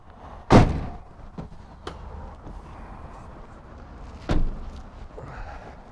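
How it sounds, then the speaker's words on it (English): Two heavy doors of a 2020 Mercedes-Benz Sprinter 2500 crew van slam shut, one early and a louder-sounding second a few seconds later, with faint thuds and background noise between. "Get these doors closed."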